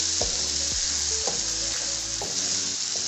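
Peppers sizzle in a frying pan while being stirred, with a steady crackle of frying broken by several sharp scrapes of the spoon against the pan.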